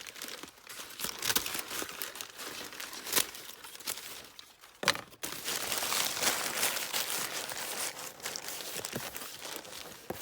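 Paper is crumpled and crinkled by hand while packing a parcel for shipping, a close, continuous rustle with sharper crunches and one brief pause midway, and no talking.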